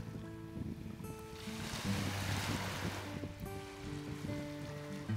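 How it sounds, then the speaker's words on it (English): Waves wash onto the sandy shore of Lake Michigan at the Indiana Dunes in the early morning, a soft rushing surge swelling in the middle and easing again, with steady wind noise throughout. "The shores of Lake Michigan at the Indiana Dunes."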